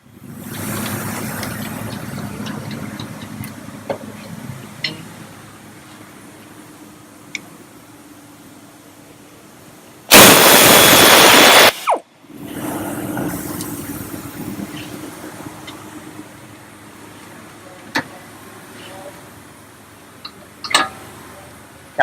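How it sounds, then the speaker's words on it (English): Brake caliper slider pin bolts being removed from a 2014 Ford Mustang, with one loud, steady burst lasting about two seconds amid quieter clicks and background noise. "Just easily take off these two bolts."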